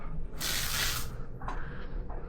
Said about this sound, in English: do an after spray with the smoke off